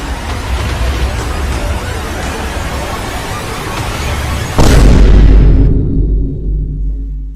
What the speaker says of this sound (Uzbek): Creeper ko'rib turganingizdek o'yinchini kelib o'ldirdi, ya'ni portlatib o'ldirdi